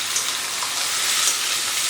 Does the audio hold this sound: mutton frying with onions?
yes